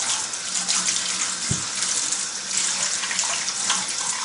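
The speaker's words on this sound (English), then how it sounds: "Just rinse it off." Parts of a wheatgrass juicer rinsed under a running tap: a steady, close hiss of flowing water with a brief clunk of plastic partway through.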